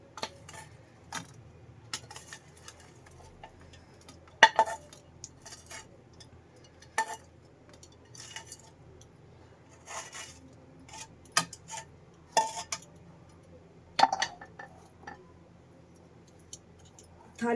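Barfi being turned out of a pan and pressed into a ghee-greased steel plate: scattered metallic scrapes, taps and clinks of a spoon against metal, close and intermittent in a quiet kitchen.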